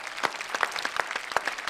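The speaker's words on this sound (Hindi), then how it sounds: "तो ये तालियां हम जारी रखते हैं" Audience applause at a live poetry and shayari show, a moderate crowd clapping with distinct sharp claps standing out from a softer, continuous patter.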